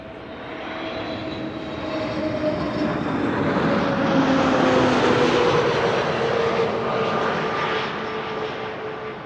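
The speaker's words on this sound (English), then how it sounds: "KLM flight 1002, arrived from London Heathrow. That's an A321neo." A KLM Airbus A321neo airliner arriving at Amsterdam Schiphol, its engines a steady, broad roar that swells toward the middle and eases off, with faint whining tones drifting in pitch, no talk.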